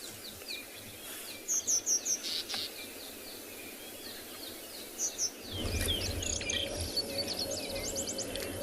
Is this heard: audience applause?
no